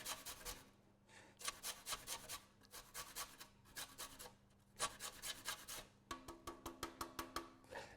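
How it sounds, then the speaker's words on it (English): Lime zest being grated over cake batter for a panettone trifle, a close, steady run of rasping scrapes in bursts of rapid strokes with short pauses between, ending in quicker, choppier passes, no voices. "I'll put some lime zest in there as well."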